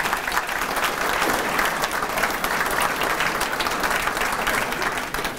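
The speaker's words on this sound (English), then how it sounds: "give our wait staff and the kitchen staff a round of applause for a wonderful breakfast" A breakfast audience gives sustained, loud applause for the wait and kitchen staff, a dense steady wash of many hands clapping throughout with no speech over it.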